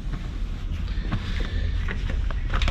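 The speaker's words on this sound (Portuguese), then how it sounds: "Que rola um vento doido." Strong wind buffets the microphone in a steady low roar with gusty swells across the whole stretch, with no voices over it.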